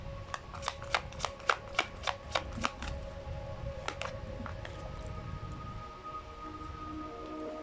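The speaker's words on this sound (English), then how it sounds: "I shuffled the cards" Tarot cards are shuffled close up with a quick run of about ten crisp riffling snaps, then softer sliding and tapping of the deck, with no voices.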